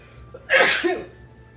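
A single sharp sneeze bursts out close by, briefly loud against a quiet background.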